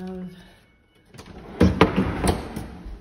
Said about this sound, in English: these are pull-out drawers